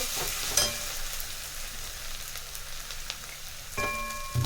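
Onions frying and sizzling in a pan on a gas stove, a steady crackling hiss with a few clinks of a utensil stirring, close up and with no talk.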